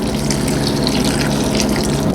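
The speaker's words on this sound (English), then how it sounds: "A little bit of hot water over the top." Hot water poured from close by over dried oyster, shiitake and other wild mushrooms, a steady full gush of liquid running without a break and with no talk.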